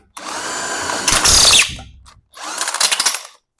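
An impact wrench with a worn, failing anvil hammers at a bolt on a muscle car during a suspension upgrade, firing in two loud close bursts of rattling, rapid impacts separated by a brief pause.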